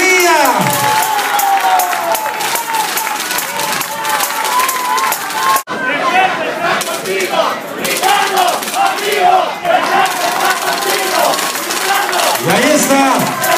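A loud, continuous crowd roar of cheering, shouting and clapping fills a political registration rally for a pre-candidate for local deputy of Jalapa Urbano, with a brief dip midway before the noise surges on.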